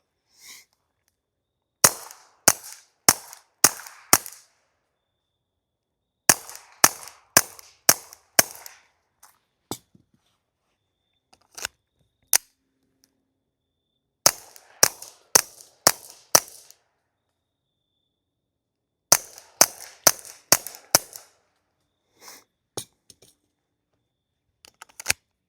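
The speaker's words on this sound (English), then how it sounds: "let's go ahead and shoot the M20 suppressed here" Suppressed Mauser M20 pistol fired in quick strings of sharp, clipped pops with different ammunition, grouped in bursts of four to six shots separated by pauses, with a few isolated shots between.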